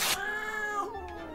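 A cat in the video game Jazzpunk lets out a single drawn-out, whiny meow, close and clear, rising then sliding down, with no talk over it.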